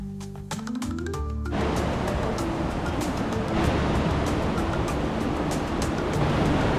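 Rushing river water in Mossman Gorge in the rainforest after rain, a loud dense roar that swells in about a second and a half and then stays steady and close with no talking.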